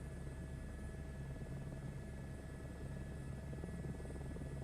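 Helicopter noise from Microsoft Flight Simulator 2024 forms a steady low rotor drone with a rapid, even chop, continuous and unbroken, with no talking over it.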